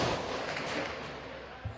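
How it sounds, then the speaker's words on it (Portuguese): Rapid gunfire crackles in dense, continuous bursts at a distance during a shootout in Rio, with a faint thump near the end and a voice briefly under the noise. "Ó, muito tiro."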